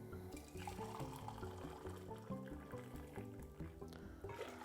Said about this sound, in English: I'm gonna pour. This is some lukewarm water from the kettle.